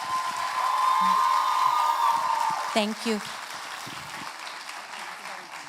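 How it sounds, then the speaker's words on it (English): Audience applauding a Bharatanatyam dancer at her arangetram, moderate clapping that fades over a few seconds while a voice speaks briefly. "Please give her another round of applause."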